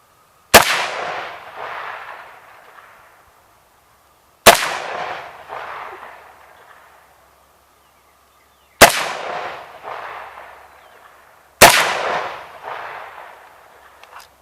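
Four loud, close gunshots are fired by a shooter aiming through a Vortex Sparc II red dot sight, each a sharp crack followed by a decaying echo, spaced a few seconds apart with silence between them.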